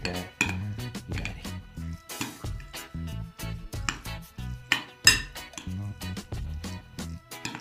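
Mayonnaise-dressed cheese salad being stirred in a bowl, with continuous clinking and scraping of a utensil against the dish, fairly close and steady, without talk.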